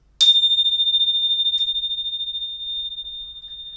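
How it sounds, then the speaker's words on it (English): A finger cymbal struck once with a mallet gives a single bright metallic strike that rings on as a long, steady high tone, slowly fading, with a faint second tap partway through. "If I take one of my mallets here and strike the finger cymbal, it sounds like this"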